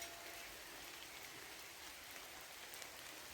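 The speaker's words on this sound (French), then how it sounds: "la pluie qui arrive, ces gouttes d'eau qui s'approchent." Steady, soft hiss of rain falling, even and continuous with no distinct drops standing out, quiet and far off.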